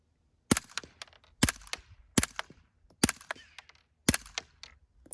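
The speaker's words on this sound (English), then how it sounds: "Now let's see what it looks like shooting with the CCI Quiet 22 and the El Camino." A suppressed Ruger Charger fires CCI Quiet .22 rounds through an El Camino suppressor: five muted, evenly spaced shots, each a soft sharp pop followed by the quick metallic clack of the bolt cycling, close by and clear.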